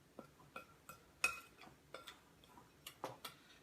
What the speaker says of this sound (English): with the same spoon, if you like, just mix all this all together